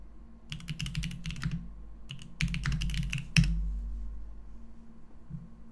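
Typing on a computer keyboard in several quick bursts of clicking keystrokes, close and clear, with short pauses between runs and no talking.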